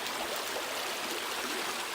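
Stream rushing at a water crossing on the Ouachita National Recreation Trail, a steady close hiss of flowing, trickling water with no break and no voices.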